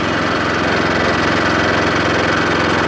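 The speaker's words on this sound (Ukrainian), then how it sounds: "Тепер я додам обертів, вмикаю другу швидкість" A WEIMA WMX663 mulcher engine runs loud and close, a steady mid-pitched mechanical drone with a rough vibrating throb and no pauses.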